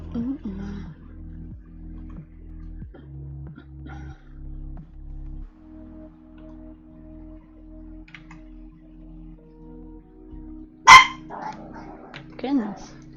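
A female puppy barks in a loud, slightly high-pitched way, with a sharp bark near the end that stands out above steady low background hum and people talking nearby.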